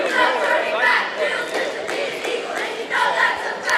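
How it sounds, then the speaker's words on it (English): High-school cheerleaders from Vienna chant and shout a cheer in a basketball gym, voices ringing over crowd noise and chatter in a reverberant hall, steady and fairly loud throughout. "the Vienna cheerleaders are doing their cheer"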